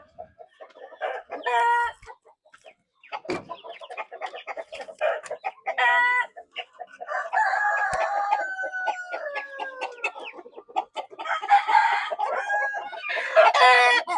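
Backyard farm laying hens, BPR and Black Australorp chickens, cluck and cackle in bursts, with a rooster crowing nearby; calls come close and clear over a quiet yard, with short gaps between outbursts.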